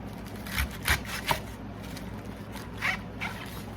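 A knife slices a head of cabbage into quarters, giving a few short crisp cuts with quiet pauses between them, close and moderately loud.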